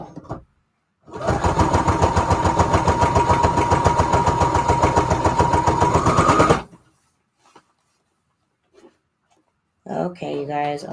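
A sewing machine runs steadily for about five seconds, giving a fast, even mechanical whir of stitching close by. Brief talk comes before it and after it.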